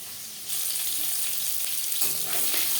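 Fish pieces fry in oil in a pan, giving a steady soft sizzle that swells slightly louder after a moment, with no talking.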